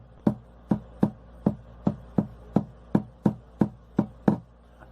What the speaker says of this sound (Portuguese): eu vou começar com um som fraco